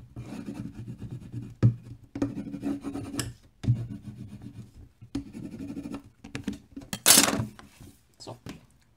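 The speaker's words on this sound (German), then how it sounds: "gehen wir auch hier nochmal gut mit dem Falzbein drüber" A bone folder rubs firmly over paper on a mini album cover, giving repeated scratchy rasping strokes, close and moderately loud, with a brief sharper scrape near the end.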